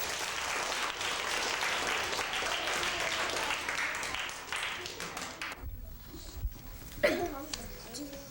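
A classroom full of students breaks into sustained, dense applause for the group with the closest answer. The clapping fades after about five seconds into a quieter room, where a voice and a few scattered sounds follow.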